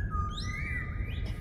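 Sea monkey creature in the underwater game Subnautica: Below Zero gives a single bright chirp that slides up and down in pitch, short and clear over a low ambient game hum.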